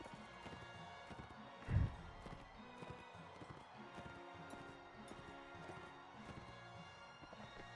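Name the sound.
horse hooves in video game Mount and Blade Warband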